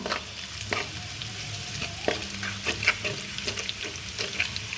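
Whole garam masala and cumin crackle in hot oil while a spoon stirs them for a banana-blossom and prawn dalna with potatoes: a steady close sizzle with repeated sharp scraping strokes and small pops.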